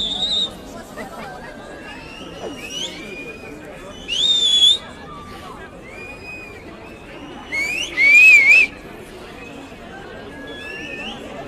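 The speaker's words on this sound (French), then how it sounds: "On entend des gens qui sifflent un peu partout" Several people at a high school student protest in Toulouse whistle in sharp, rising and warbling bursts over the murmur of a crowd, some whistles loud and close, others fainter.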